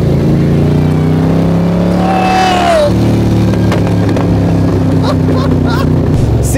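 A 400-horsepower sports car engine drones loudly and steadily at close range, holding a high revving pitch that dips and shifts partway through, with a voice heard over the engine noise.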